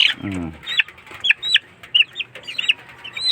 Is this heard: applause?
no